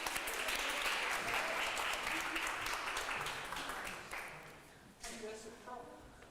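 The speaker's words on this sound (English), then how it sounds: "Round of applause." Round of applause from a small workshop group, dense clapping that thins and fades, then a short renewed burst that trails off; fairly quiet overall.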